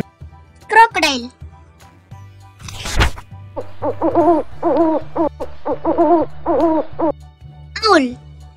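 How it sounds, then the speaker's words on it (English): An owl hoots in a series of short, repeated calls at an even rhythm, with a few sharp louder bursts and a thump mixed in, all close and clear. "Owl."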